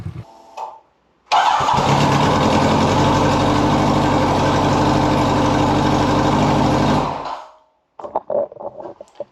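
A motorcycle engine idles in neutral, loud and close, holding a steady rumble for about six seconds before it cuts out, with brief clatter afterward.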